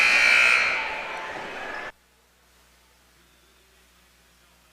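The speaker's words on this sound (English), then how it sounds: "as we hit the buzzer." A loud buzzer blares in a high school boys basketball gymnasium during a Swanton versus Bryan game, one sustained harsh tone lasting about two seconds, then cutting off to near silence.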